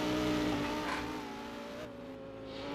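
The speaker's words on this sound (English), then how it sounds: "The Ferrari and the Lamborghini side by side" A Ferrari and a Lamborghini sports car race side by side in a sports car feature race, their engines a continuous loud roar with gear-shift pitch changes, no talk over it.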